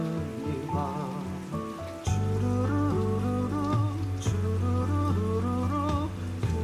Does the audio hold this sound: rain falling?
yes